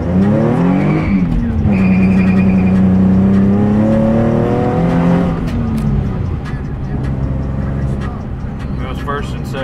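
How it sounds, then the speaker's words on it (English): A 2003 Nissan 350z does a burnout on an uphill road, its engine revving hard through first and second gear while the tires screech loudly and continuously, with someone talking over the noise. "I'm sure you can probably hear the tires screeching."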